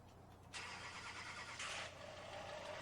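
A 2020 Duramax pickup truck's engine cranks and catches, a quiet starter whir rising into a steady idle heard from inside the cab.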